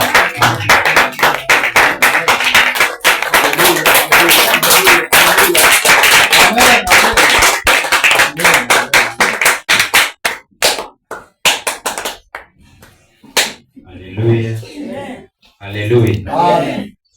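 A church congregation claps hands in loud, sustained rhythmic applause that breaks into scattered claps and then fades, with voices speaking over it toward the end.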